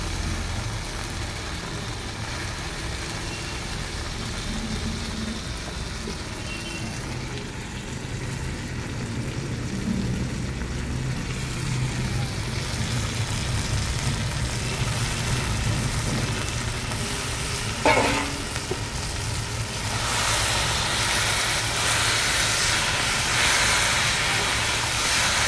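Duck meat with thick skin dropped into oil in a pan over a wood fire, a steady loud sizzle and hiss that runs the whole time and grows brighter near the end, close up and without talk.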